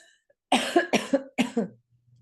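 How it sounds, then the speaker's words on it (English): A rapid series of harsh coughs, about five in quick succession, close and loud after a brief quiet start. "Was my coughing awful today?"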